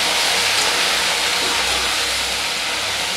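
Pieces of raw banana and potato frying in a pan: a loud, steady sizzling hiss with no break, and nobody talking.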